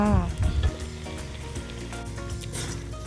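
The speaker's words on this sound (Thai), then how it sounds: "คั่วให้ กระดูกหมู เข้ากับ เครื่องปรุงด้วยค่ะ คั่วไปเรื่อยๆด้วยค่ะ" Pork bones stir-fried with fish sauce, fermented fish sauce and seasonings give a continuous close sizzle with stirring, a short hum of voice at the start, otherwise no talk.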